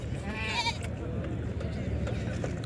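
A goat at a goat farm gives one wavering bleat early on, fairly close, over a constant murmur of background noise and voices from the farm.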